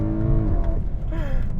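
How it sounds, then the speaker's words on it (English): BMW E92 M3 with its V8 engine accelerating on the road, heard from inside as a loud, deep engine roar with rising then shifting pitch across a brief burst. "The E92 M3 has one of the best sounding engines of all time."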